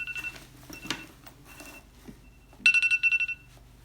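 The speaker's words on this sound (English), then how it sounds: "there was an alarm going off there" An electronic alarm goes off with a rapid series of bright, repeated beeps near the end, after a quiet stretch of faint indoor sounds.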